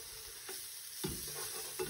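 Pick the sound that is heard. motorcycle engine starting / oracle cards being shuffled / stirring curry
stirring curry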